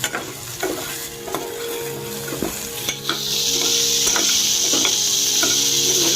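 Three tomatoes tipped into hot oil for okra gojju, with a few knocks of a spoon stirring in the pan, then the sizzle swells into a loud, steady hiss that runs to the end, no voices.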